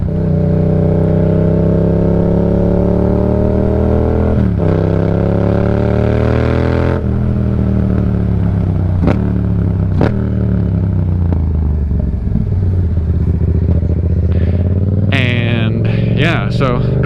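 An untuned motorcycle being ridden, its engine droning steadily with rising and falling revs across gear changes, ending in a burst of higher revving, loud and close throughout.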